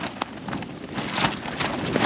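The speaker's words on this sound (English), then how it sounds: "getting some strong gusts, windy" Strong gusts of wind on high ground at Ard Crags roar as a continuous, swelling rush of broad noise without any talking.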